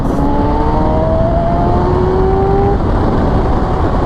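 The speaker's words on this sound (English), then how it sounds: "If you stay in third gear and rev it out" A 2014 Kawasaki ZX-6R 636 supersport motorcycle engine revs out hard in third gear, loud and close, its whine climbing steadily in pitch under strong wind noise.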